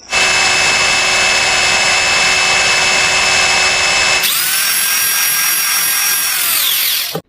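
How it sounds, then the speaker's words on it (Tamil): A power drill whines steadily at high speed, then shifts pitch as it bites into material and winds down near the end; loud and close, no voices. "ட்ரில்லிங் மிஷினை வச்சு நான் தேவையான பார்த்திங்கன்னா ஓட்டை ஒன்று போட்டுக்கிறேன்."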